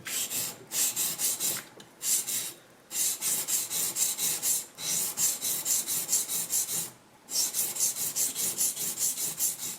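A blade is rubbed over sandpaper laid on a flat block in steady rhythmic strokes, making a close, bright rasping scrape with short pauses between passes.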